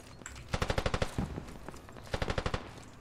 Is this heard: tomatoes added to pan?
no